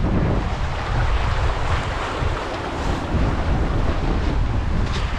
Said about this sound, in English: these waves just like stacked up